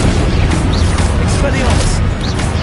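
Confringo blasting spell explosions in Hogwarts Legacy, dense loud booming blasts layered with shouted spell incantations throughout.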